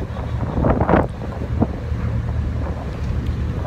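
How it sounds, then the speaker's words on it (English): Wind buffets the microphone on the outside deck of a ferry crossing choppy water from Mallaig to Lochboisdale, with a constant rushing roar and occasional louder gusts. "I'm just stood on the outside deck, I'm doing a little bit of filming, and wow, it is choppy."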